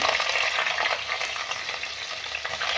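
Fenugreek seeds and ginger sizzling and crackling in hot oil, a steady, dense frying hiss close by with small pops throughout and no talking.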